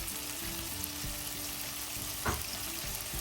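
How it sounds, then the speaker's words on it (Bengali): Potatoes frying golden in oil with turmeric, a soft, even sizzle with light scraping of a spatula against the pan and one brief louder stir, no voices. "আলুগুলো বেশ সুন্দর গোল্ডেন ব্রাউন করে ভাজা হয়ে গেছে"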